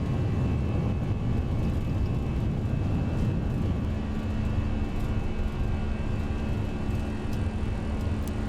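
An A320 airliner's engines roar steadily during the takeoff run in the X-Plane 11 flight simulator, a loud continuous jet drone that holds its level throughout without any speech.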